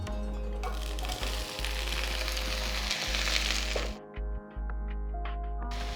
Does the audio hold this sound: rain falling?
no